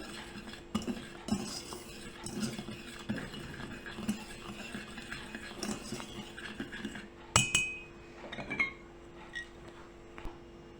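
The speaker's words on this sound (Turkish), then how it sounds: "Önce kuru malzemelerimizi biraz bir çırpıcı yardımıyla çırpalım." Light metallic clinks and taps of a whisk against a bowl of dry cake ingredients, quiet and irregular, with a sharper clatter near the end.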